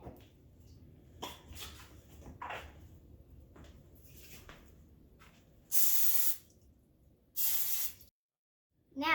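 Two sharp bursts of cooking spray hiss out in quick succession onto a muffin tin over quiet background clatter, close and loud, each lasting about a second.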